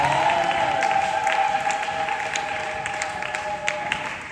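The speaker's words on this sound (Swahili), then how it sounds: "Ongeza makofi mengi kwa ajili ya Bwana Yesu." Church congregation applauding for Jesus during a service, steady sustained clapping from a crowd over a held musical tone, continuous for several seconds.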